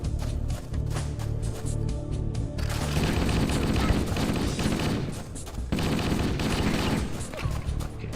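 Repeated shotgun blasts in Halo gameplay, loud and close, firing in a steady run of heavy shots over continuous game noise and music.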